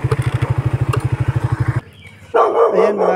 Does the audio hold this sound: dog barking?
yes